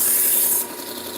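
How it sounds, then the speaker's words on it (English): Knife edge being refined on a 600 grit sanding belt, a steady bright abrasive hiss that drops noticeably in intensity partway through, with no talking. "this is a 600 grit belt. This one basically is just to refine that edge,"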